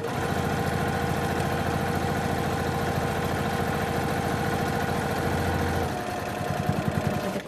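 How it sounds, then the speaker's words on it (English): Sewing machine stitching close to the edge of a child-sized 3D box face mask, a steady, near, continuous motor whir with rapid needle rhythm that slows and pulses toward the end. "So I'm just sewing right close to the edge of"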